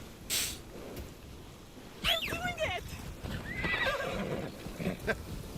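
In Assassin's Creed Shadows, a horse lets out a sharp, close whinny over a soft clip-clop of hooves, with voices talking around it.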